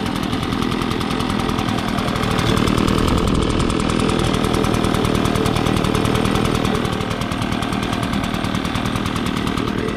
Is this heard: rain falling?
no